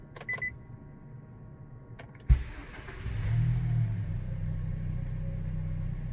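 Nissan Evalia XV family car engine cranking and catching with the door open, a sharp starter click near the middle followed by a steady low idle rumble, preceded by faint dashboard chimes.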